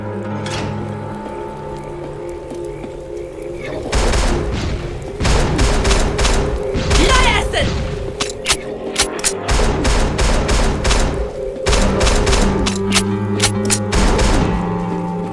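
Rapid gunfire and booming blasts tear through demons in a boomer shooter video game, dense bursts of shots and thuds coming in loud volleys with short pauses between them.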